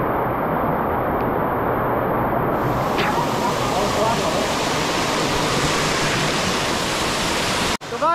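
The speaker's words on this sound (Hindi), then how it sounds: "यहाँ से ऐसे पानी बह रहा है नीचे।" Water pours down at a hidden waterfall in Ahmednagar, making a loud, dense, steady roar of rushing flow that fills the whole clip close to the microphone, with a brief bump of handling near the end.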